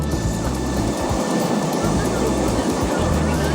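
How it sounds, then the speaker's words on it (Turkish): A train picking up speed, heard as a loud, steady rumbling drone with rhythmic low thumps of the running gear throughout, no talk over it. "tren hızlanmaya başladı"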